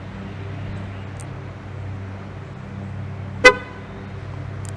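A Nissan Murano gives a single short horn toot when locked with the smart key fob, ringing out once over a low, steady background hum.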